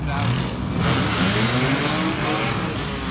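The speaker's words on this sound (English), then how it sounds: "how do you like the straight pipe BMW sound?" A straight-piped BMW exhaust roars nearby with a loud, raw, rumbling drone that rises and falls as the engine revs, filling the whole moment with harsh broadband noise.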